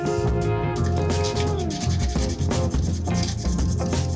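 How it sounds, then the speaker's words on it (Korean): Sandpaper rubs across a 3D-printed part in quick, repeated scratchy strokes, close and fairly loud, set against background music with no talking. "서포터가 붙어 있었던 면은 거친 사포부터 부드러운 사포순으로 샌딩합니다."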